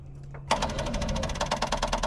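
A 1976 Corvette, revived after sitting ten years, cranks over on its starter: a steady fast rhythmic whirring chug that starts abruptly and carries on for about a second and a half, close and loud, with no voices.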